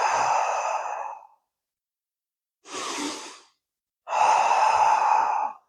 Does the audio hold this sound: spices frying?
no